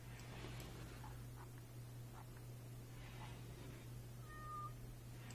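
A cat meows in the video game Rimworld, a few short faint calls spread over a steady low hum, with no talk.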